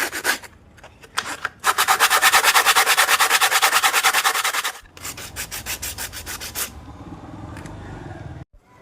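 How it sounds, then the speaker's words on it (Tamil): Coconut shell piece being sanded on its outer and top surfaces: close, loud, steady rhythmic rubbing strokes in long bursts, pausing briefly, then a second run of slightly softer sanding strokes. "பீஸை முதல்ல வெளிப்பகுதியும் தேய்ச்சி மேல் பகுதியும் தேய்ச்சி எடுத்துடணும்"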